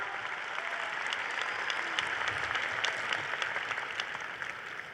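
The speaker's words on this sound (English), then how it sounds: "she deserves that round of applause" Sustained applause from a graduation audience at Baruch College, a dense steady clatter of many hands clapping throughout, with faint voices mixed in.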